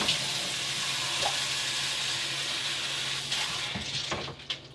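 Tap water runs steadily while steak is rinsed at a sink, a continuous close splashing rush with a few small clinks near the end, and nobody speaks.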